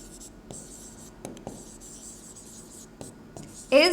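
Marker or chalk writing on a classroom board during a class 6 physics lesson on light and reflection, a series of faint scratchy strokes and taps at an irregular pace, followed by a brief louder squeak at the end.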